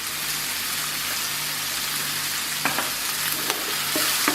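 Food sautés with salt in a hot pan: a steady loud sizzle with occasional stirring scrapes near the end.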